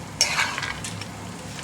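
A spoon scrapes and stirs a dry fruits laddu mixture with cardamom powder and raisins in a pan, a short, close, continuous rustling stir with a faint sizzle.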